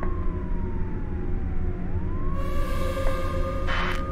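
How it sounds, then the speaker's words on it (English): Police sirens wail in the video game Cold Call, one rising and falling tone with a second siren joining partway through, loud over a steady rumbling game background and without speech. "I can hear the sirens, dude."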